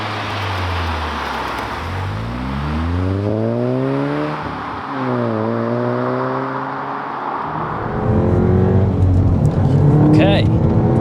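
Stage 2 tuned MK7 VW Golf GTI Clubsport track car pulling away, its engine rising through repeated upshifts with distinct rising and falling tones, heard from inside the cabin with people talking over it.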